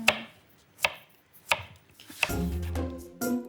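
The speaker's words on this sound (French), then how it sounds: "2 gousses d'ail, Julie, que la chef découpe en morceaux et met dans le mixeur avec la coriandre hachée" A kitchen knife chops two garlic cloves on a board for an Indian aubergine dish, giving four or five crisp, loud chops at an uneven pace, then a blender-like whir starting near the end.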